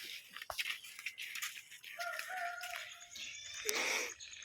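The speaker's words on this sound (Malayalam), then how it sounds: "അപ്പൂസിന് നീച്ച അങ്ങോട്ട് ഓടും കോഴിയെ തുറക്കാനും കോഴിക്ക് തീറ്റെടുക്കാനൊക്കെ" Chickens at a home coop around feeding time cluck and call in short bursts, with a loud rooster crow near the end, over a quiet outdoor background.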